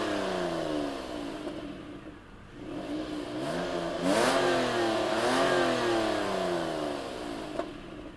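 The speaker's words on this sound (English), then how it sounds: "Mitsubishi is one of the last brands to use naturally aspirated engines like this V6, but let's hear how it sounds" The naturally aspirated V6 of a 2016 Mitsubishi Outlander revs up and down several times. Steady, loud and close, the engine note rises and falls over a constant idle hum.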